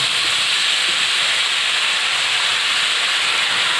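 Tender bottle gourd pieces tipped into a hot pan of cooked-down spiced chickpeas give a steady, even sizzling hiss that holds constant throughout, close and with no voices.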